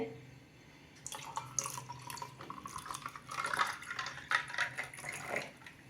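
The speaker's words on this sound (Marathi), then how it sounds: "आता साधं पाणी गार पाणी आहे गार पाणी घालते" Cold water pours steadily into a vessel of raw mango sherbet nearby, a continuous splashing trickle that grows a little louder midway.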